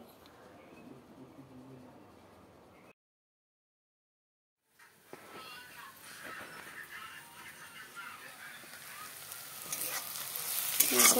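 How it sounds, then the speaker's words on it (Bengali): Onions sizzling in hot oil in a pan, the start of a small-fish curry with tomato; steady close frying hiss broken by a brief silent gap, then returning louder and brighter with stirring scrapes. "এখানে পেঁয়াজ দিয়ে দিলাম, টমেটো দিয়ে ছোটো মাছ তরকারি করবো।"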